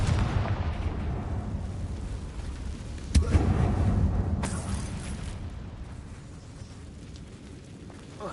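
A Confringo blasting spell in a Harry Potter video game lets off one sharp, loud explosion partway through, with rumbling before it and a slowly fading tail after, and nobody speaking.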